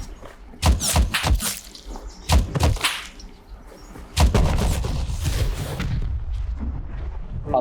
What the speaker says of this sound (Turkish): Hadi la iki roket daha salla biter işi.